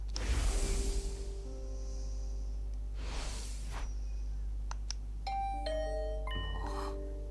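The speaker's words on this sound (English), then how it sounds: "Bing bong. Was that my doorbell?" A doorbell in a video game chimes in two bright electronic tones near the end, following soft whooshing noises and a low steady hum.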